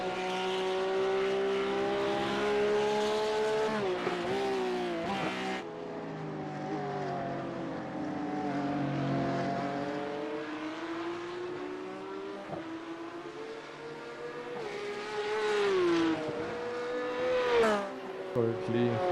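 A race car engine in the VRS sim racing game whines steadily at high revs, with pitch climbing and dropping through gear shifts and sharp cuts, while commentators talk over it throughout.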